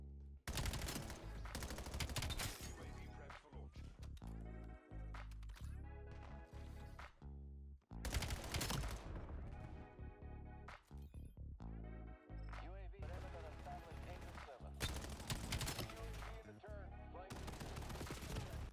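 Gunfire in the video game Black Ops 7 with an M15 rifle: loud, close bursts of automatic fire repeating in rapid volleys throughout, with a voice talking over them.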